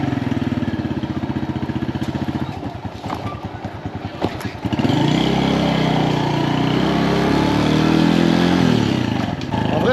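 Motorcycle in Hoi An, Vietnam, ticking over with a rough, pulsing idle, then revving up and pulling away with a steady, loud engine drone that holds for the rest of the stretch.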